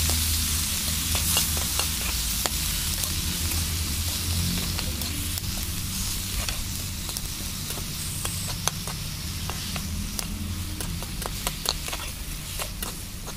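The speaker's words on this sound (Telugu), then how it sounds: "నీట్గా వాష్ చేసి పెట్టుకున్న వామాకుని వేసుకుని ఫ్రై చేసుకోవాలి" Washed ajwain leaves fry in oil, a steady low sizzle with frequent sharp crackles and pops scattered throughout, moderately quiet.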